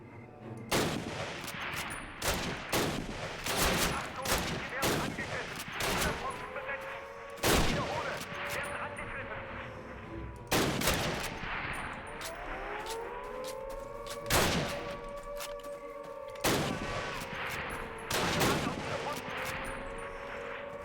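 Gunfire in the Call of Duty video game: loud, sharp shots burst in irregular bursts and volleys throughout, over a wailing siren that rises and falls in the background.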